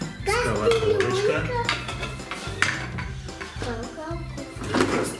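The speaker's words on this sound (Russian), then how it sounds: "Смотри, вот у нас тут сковородочка." Plastic toy kitchen cookware from a children's play kitchen set, a small frying pan among pots and dishes, clatters and clinks as the pieces are handled, with someone talking over the light knocking throughout.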